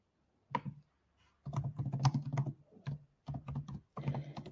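Someone types on a computer keyboard in short bursts of quick, close key clicks separated by brief pauses, fairly quiet and with no voice over it.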